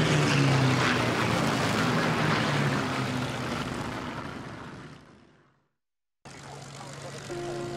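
A loud Spitfire propeller aircraft drones past and slowly fades away, then after a brief silence a fainter engine hum continues.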